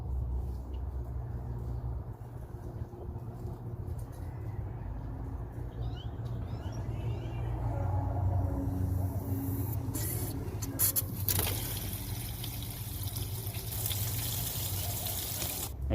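Steady rushing and trickling water from a garden hose flushing the heater core of a 2008 Ford F-150, a continuous wash of noise that swells slightly partway through, with no talking.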